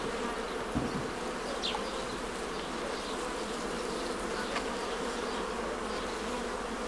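Honeybees swarm around an opened hive during a traditional family honey harvest, a dense, steady buzz that fills the whole stretch, close and continuous, with individual bees flicking past now and then.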